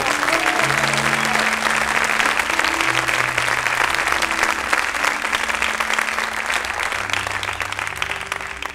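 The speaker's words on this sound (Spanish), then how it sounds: "Denle un fuerte aplauso al Señor por sus vidas, por favor." A church congregation gives a loud round of applause, continuous dense clapping filling the room, with a sustained organ or keyboard chord droning underneath throughout.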